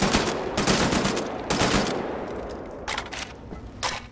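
Bursts of assault rifle fire in the shooter Wolfenstein: The New Order, loud and close, with rapid automatic volleys separated by short gaps.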